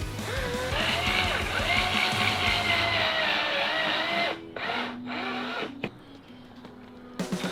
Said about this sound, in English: So we're just going ahead and tackling that drilling part since we know exactly where it goes.